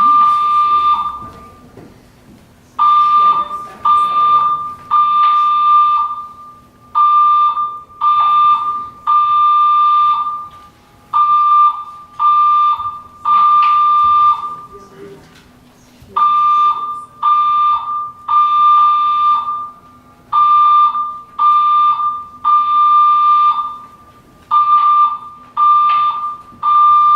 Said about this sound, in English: This is the alarm.